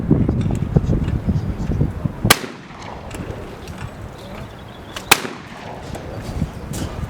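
An Akkar Triple Crown three-barrel shotgun fires two sharp, loud outdoor blasts a few seconds apart at a UK shooting trial day, each with a brief ringing tail over low background rumble.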